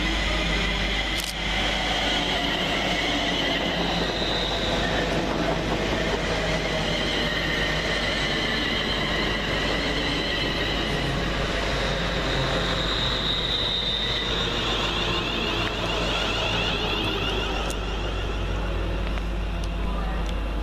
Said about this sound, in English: 350 112 and 350 401 fly through, working 1U33 from London Euston to Crewe